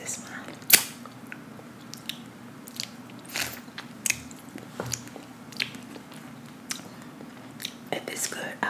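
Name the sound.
biting and chewing pizza, ASMR eating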